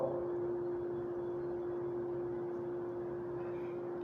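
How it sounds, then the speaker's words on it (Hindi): A struck tuning fork rings with one steady, pure sustained tone for the whole stretch, close and even, over a faint low room hum, with no speech. "ये फिर से मैं ट्यूनिंग फोर्क को बजाता हूं"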